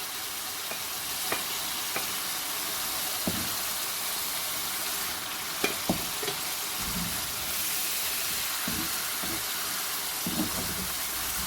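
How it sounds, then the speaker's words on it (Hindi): Masala fries with browned onions for chicken malai karahi: a dense, even sizzle carries on throughout, with scattered light taps and scrapes as the mixture is stirred. "इसलिए अच्छी तरह से हम इसमें मसाले में भून लेंगे।"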